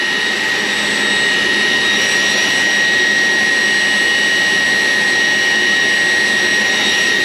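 An RC Viper Jet turbine engine runs steadily at close range with a loud, sustained high-pitched whine and a rushing roar of intake air, unbroken throughout and with no speech.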